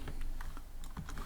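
Rapid typing of Python code on a computer keyboard, a steady run of close, crisp key clicks with no talking.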